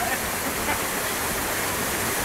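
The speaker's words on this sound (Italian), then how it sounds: "È una specie di Rio dell'Amazzoni sto fiume" Powerful mountain river at Alpe Bancet rushing steadily, a dense broadband roar of water at even loudness throughout.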